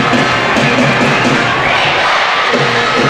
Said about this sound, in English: You can hear the youthful voice inside the Pride Park Stadium crowd this evening.